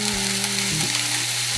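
A steady, close sizzle of chickpeas frying in a saucepan, a continuous crackling hiss that holds on alone without pause.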